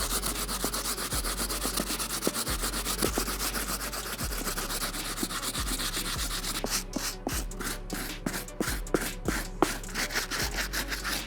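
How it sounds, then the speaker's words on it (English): Stiff bristle brush scrubbing the rubber outsole of a Jordan 4 sneaker, a loud, close, continuous raspy rubbing with rapid back-and-forth strokes that turn quicker and choppier toward the end. "let's proceed using our stiff bristle brush on this outsole."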